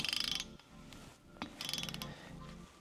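Digital torque wrench tightening a fastener in a lab, giving a few close, quiet bursts of rapid ratcheting clicks separated by short pauses, with no talking.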